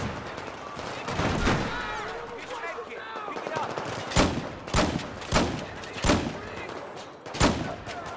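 Shots from a .44 Magnum revolver in Battlefield 4, fired as a series of loud, evenly spaced single bangs in the second half, with a voice talking over the first part.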